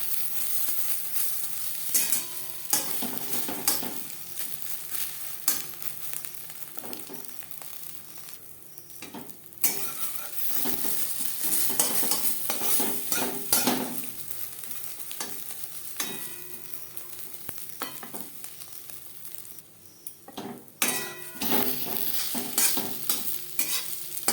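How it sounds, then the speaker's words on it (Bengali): An egg omelette fries in hot oil over a medium flame, with a continuous soft sizzle broken by repeated scraping and stirring strokes of a spatula in the pan, heard alone without speech. "তেল আমি হাই ফ্লেমে গরম করে নিয়েছিলাম অমলেট তৈরি করব মিডিয়াম ফ্লেমে"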